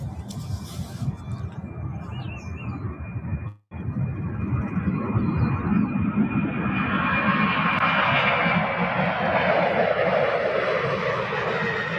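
A cargo jet takes off at UPS Worldport in Louisville, its engines building to a loud, sustained roar with a brief dropout near the start and broadband thrust noise swelling as it climbs away.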